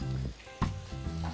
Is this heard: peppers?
yes